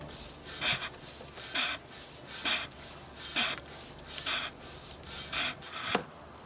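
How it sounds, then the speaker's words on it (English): A hand pump draws engine oil out of a Smart car through a hose, giving about seven rhythmic rasping strokes, each a short scraping pump push spaced roughly a second apart, close and moderately loud with no talking. "We're going to press it a couple times, and as you see, the oil start to come out."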